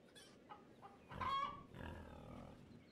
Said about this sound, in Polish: O, cztery koguty.